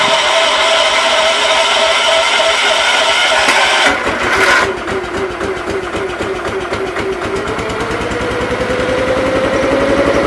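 An Ingersoll garden tractor engine starts from cold and settles into a steady, loud, evenly pulsing idle close by, the tone shifting slightly as it warms up; no one speaks over it.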